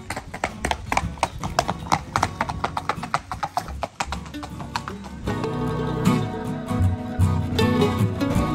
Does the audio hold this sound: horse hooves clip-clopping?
yes